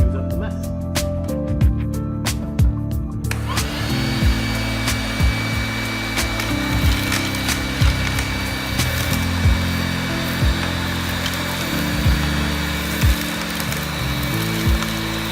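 A DeWALT 20V MAX cordless vacuum pulls up wood chips, leaf debris and dog food, running as a steady loud whir with clatter from the pickup, under occasional talk.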